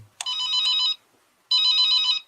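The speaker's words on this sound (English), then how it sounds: "We're going to play the Joe Judge phone call." A telephone bell rings in two loud, buzzing bursts separated by a short pause, clear and close with no voices over it.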